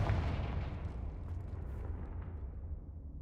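A Confringo explosive fire spell goes off in the video game Hogwarts Legacy, a loud deep boom with a rumbling, roaring tail that slowly fades over a few seconds, with no talk.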